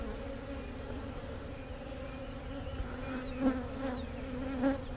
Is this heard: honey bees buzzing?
yes